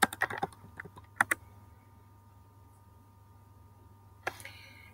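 Computer keyboard typing into a library catalog search bar, a quick burst of clustered keystrokes at the start, a few isolated taps, then another short flurry near the end over a faint steady hum.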